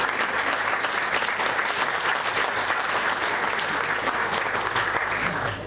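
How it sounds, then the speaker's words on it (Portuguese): Steady, dense audience applause fills a conference opening session in Ponta Delgada, many hands clapping loudly and evenly throughout without a break, with no voices standing out above it. "a quem eu peço uma salva de palmas"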